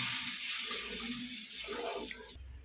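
Tamarind water for a Pazhaverkadu-style fish curry is poured in a brief, steady splashing stream close to the listener, ending abruptly.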